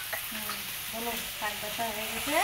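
Fish fries in a pan in a home kitchen, making a continuous soft sizzle at moderate volume. Faint tonal sounds and occasional stirring run through it.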